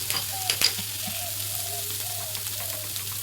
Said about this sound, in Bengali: ভালো করে এটা মিশিয়ে নেব আলুর সাথে